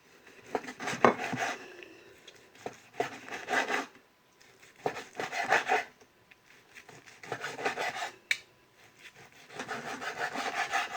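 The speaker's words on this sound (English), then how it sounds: "So we'll cut into it." A knife saws through cooked Szechuan pepper steak on a wooden chopping board, giving repeated rasping strokes in several bursts with short pauses, close and fairly quiet.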